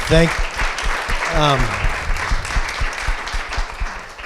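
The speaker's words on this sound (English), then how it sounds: "let's give a big round of applause for Miley, Macy, Margot, and Chloe." An audience at an event marking National Girls and Women in Sports Day breaks into loud, sustained applause and clapping, a dense steady patter, while a voice speaks briefly over the start.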